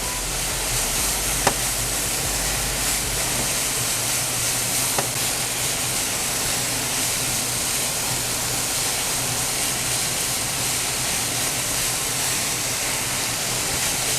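Pork and vegetables for homemade lumpia cooking down in a hot pan, giving a steady, close sizzle that holds evenly throughout, with a couple of faint clicks and no talk.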